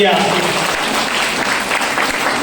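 Loud, dense clapping from an audience at a speech, sustained throughout, with voices mixed in underneath.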